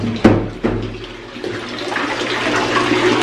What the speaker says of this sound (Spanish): se puso bien loca y empezó a salpicar todo